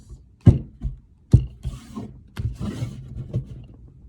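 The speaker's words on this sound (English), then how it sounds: "With a proper shuffle, let's cut the cards." A deck of cards is shuffled and cut by hand, producing several quick riffling bursts and soft slaps, close and separated by brief pauses.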